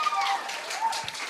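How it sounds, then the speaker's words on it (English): Audience applause at a live event at Rollins College, a steady wash of clapping from a crowd filling the whole moment at moderate level, with a faint whistle-like tone drifting through. "let's just give some applause over here to the Vulgar Geniuses"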